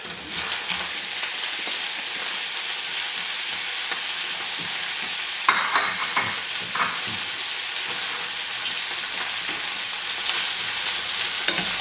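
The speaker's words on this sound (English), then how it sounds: "and give it a quick fry." Food for Salisbury steak fries in a hot pan, giving a steady, dense sizzle with occasional stirring scrapes and clinks partway through, close and continuous without speech.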